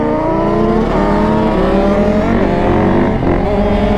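A race Banshee quad's engine snarls loud and close, its steady buzzing drone holding strong with small dips and swells in pitch as it pulls up, with no other sounds breaking through.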